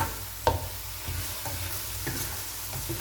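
Squid chins stir-fry in a hot pan with garlic, black pepper and coriander root, a steady close sizzle broken by a sharp scrape of the spatula early on and softer stirring strokes after.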